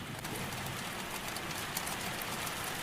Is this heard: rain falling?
yes